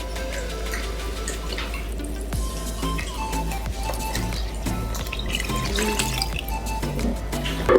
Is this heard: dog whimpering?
no